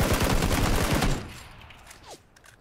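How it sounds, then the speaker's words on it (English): Rapid bursts of gunfire from the battle royale game PUBG rattle loudly for about a second, then fade to faint distant shots, with a brief whistling sweep near the end. "Oh, we're still getting shot at."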